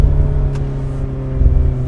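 A 2024 Mazda ND3 Miata with an aftermarket exhaust cruises on an evening drive, a steady low droning exhaust rumble heard from inside the car, loud and continuous with no talking.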